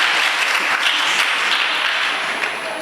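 An audience at a Jain religious discourse claps, a loud, sustained wash of applause from many hands that holds steady before easing slightly at the end.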